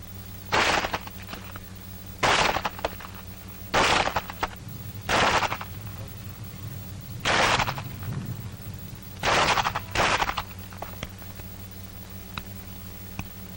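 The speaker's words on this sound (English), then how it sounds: "That is the way you use your pistol in battle firing." Pistol shots in a 1942 army close-combat firing drill, heard as about eight loud, sharp reports spaced a second or two apart, some in quick pairs, over a constant hiss of old film sound.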